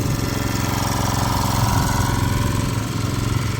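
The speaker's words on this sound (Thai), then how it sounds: "ต้องใช้เครื่องสูบน้ำช่วยนะครับ" A small water pump engine runs steadily and loudly throughout, a constant close mechanical drone with no break, used to clear a hand-drilled well after flooding.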